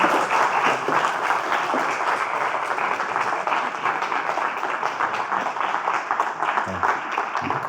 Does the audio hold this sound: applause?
yes